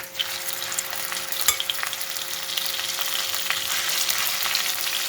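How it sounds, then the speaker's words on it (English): Mustard greens (saag) cooking in oil in a wok, producing a dense, steady sizzle and crackle that grows slightly louder throughout, with occasional stirring scrapes. "Then add saag and let it simmer until it releases oil."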